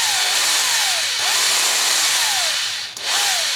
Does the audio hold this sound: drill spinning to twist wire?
yes